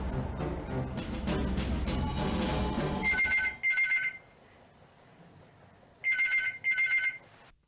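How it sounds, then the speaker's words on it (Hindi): A telephone rings twice, each time as a pair of bright electronic bursts, after a passage of music fades out; the rings are clear and fairly loud against near silence. "आ गया फिर फोन।"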